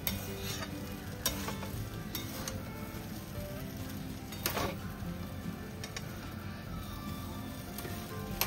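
Vegetable chowmein with peanuts and black pepper tossed in a pan, a continuous frying hiss with repeated clinks and scrapes of the utensil against metal as it is stirred.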